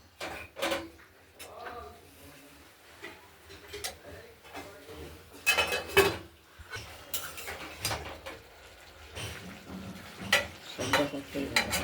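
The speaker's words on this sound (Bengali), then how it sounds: "বাঁধাকপিটা আমরা নাড়াচাড়া দিয়ে নিলাম" Cabbage is stirred in a pan while preparing a cabbage curry with potato and peas, irregular clatters and scrapes of a utensil against metal coming in bursts with quiet gaps between them, plus faint frying.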